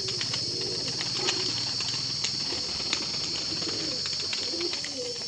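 High flyer pigeons coo steadily at a village loft, soft repeated calls layered over a constant bright hiss and light background clatter, with no talking.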